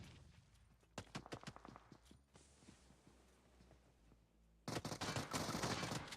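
Rapid video game gunfire from a tournament battle, a sparse run of sharp shots early on, a quieter stretch, then a loud sustained burst of automatic fire near the end, with no talk.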